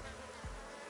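Honeybees in an opened hive frame during a colony split, giving a steady, close insect buzz on its own with no talking.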